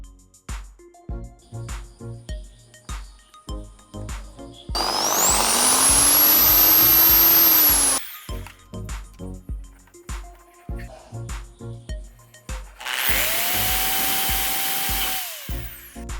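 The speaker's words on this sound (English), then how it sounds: "As per the hole size, I am using the exact size drill bit." A drill with a hole-sized bit boring holes in an aquarium holder clip: two loud whining bursts of several seconds each, separated by close clicks and taps, with no talk.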